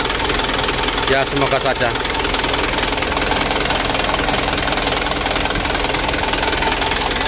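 An engine with jelly-like oil sludge deposits idles after a hard start, making a loud, steady rumble with a slight knocking beat throughout, while someone talks over it.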